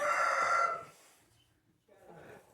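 A hen in a nesting box gives a loud, near crowing-like squawk for the first second, followed by quiet scuffling and a softer call near the end.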